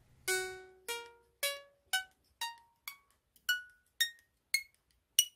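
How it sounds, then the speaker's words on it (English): The reeds of a cleaned harmonica are plinked one after another, giving about ten clear, ringing pings in a steady rhythm, each decaying quickly and rising in pitch across the run, close and alone. "plink each reed. They should all produce a clear ping"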